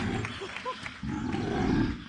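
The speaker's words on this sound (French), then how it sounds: "Soudain, pendant qu'il joue, on entend des rugissements." A deep animal roar, sounded as a bear sound effect, bursts out loud in a couple of rising growls, followed by a broader rumbling roar.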